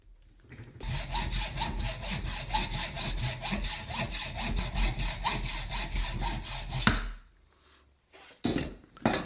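A metal file scrapes burrs off the freshly cut end of a Manfrotto tripod pan screw from a 546B tripod, in quick, steady back-and-forth strokes, close up and alone for several seconds before stopping.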